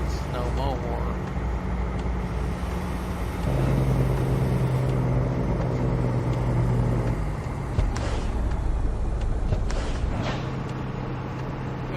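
A truck engine in American Truck Simulator revs hard in a low gear, a loud steady rumble that surges upward, then settles back down to a lower drone near the end.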